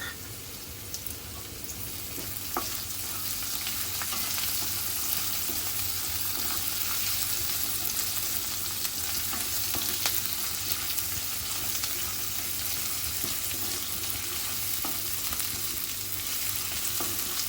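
Onion and green chillies sauté in a hot pan for a cluster beans and pumpkin bhaji, giving a steady, dense sizzle with occasional faint stirring taps throughout and no speech.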